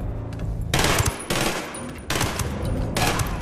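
Heavy automatic gunfire in Ghost Recon Wildlands, a video game: three loud, dense bursts of rapid shots, each about a second long, with brief quieter gaps between them. No one speaks over it.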